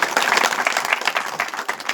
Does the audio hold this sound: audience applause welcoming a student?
yes